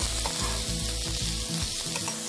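Pork and bell pepper frying in a hot pan, a steady dense sizzle and crackle with faint stirring bumps, close and continuous with no talking.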